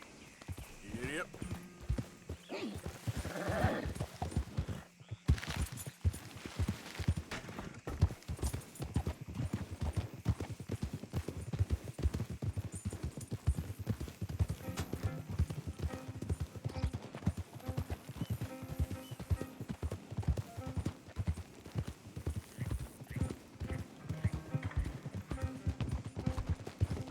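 Horse hooves clip-clop in a steady walking rhythm through the Western video game Red Dead Redemption 2, close and continuous for nearly half a minute, with occasional whinnies and other game sounds mixed in.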